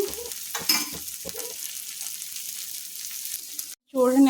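A karam dosa fries with fresh oil on a high flame, giving a soft, continuous sizzle with light spatula scrapes. It drops to a brief silence, then a louder burst of sizzling and clatter comes at the end.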